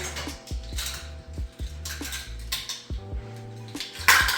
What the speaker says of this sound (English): Let me get my mixing bowl.